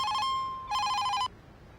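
A telephone rings in two electronic bursts separated by a brief pause, clear and fairly close with no talking.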